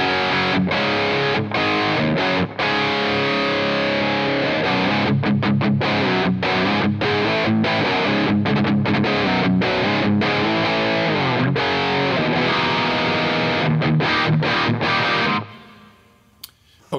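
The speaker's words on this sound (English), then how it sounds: "This is the preset, triple rectifier," An electric guitar runs through a Mesa Boogie Triple Rectifier amp preset in AmpliTube 5 with diode overdrive and digital reverb, playing heavily distorted, loud chugging riffs with rhythmic palm-muted stops, then ringing out into silence at the end.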